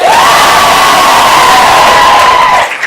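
A theatre audience voting for a Western play erupts in loud cheering, with a long sustained whoop riding over a dense, close roar of the crowd that cuts off abruptly near the end.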